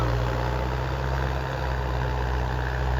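An Arjun 605 DI tractor engine idles with a steady, unbroken low rumble and hum, loud and close, holding an even pitch throughout with no voices.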